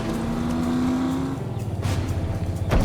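A car engine in the video game The Saboteur, a steady close hum that drops away, then rising revs and a sharp surge near the end.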